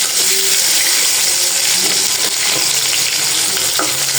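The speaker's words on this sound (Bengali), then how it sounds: "এখন হচ্ছে কি আলুটা ভেজে নিব" Potatoes fry in oil in a pan with a loud, close, continuous sizzle and crackle, plus faint stirring scrapes.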